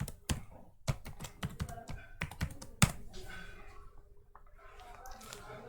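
Password being entered on a computer keyboard during a Linux terminal session, with a quick burst of irregular key clicks and taps up close, then trailing into quieter scattered keystrokes.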